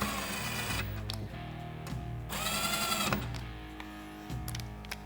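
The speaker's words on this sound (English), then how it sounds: "we're going to take our impact. Not even going to tighten them. Just going to put them down to where they touch" An impact wrench runs clutch bolts down on a Polaris RZR XP 1000 during a Rev1 clutch kit install, giving several short whirring bursts with pauses between them, close and fairly loud with no voices.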